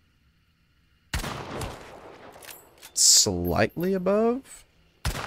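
Centennial rifle shots in Hunt: Showdown, two sharp, loud cracks about four seconds apart after a quiet start, with voices talking between them.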